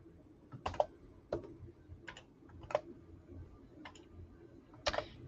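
Keystrokes on a computer keyboard come in short irregular bursts of clicks with pauses between, fairly close and quiet, with no talk.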